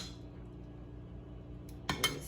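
Metal utensils clink against a plate or pan twice near the end while spaghetti aglio e olio peperoncino is served, following a quiet stretch of low kitchen room tone.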